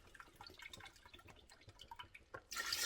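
Beef broth pours in a soft, irregular trickle of drips and splashes, then ends in a brief louder gush of liquid.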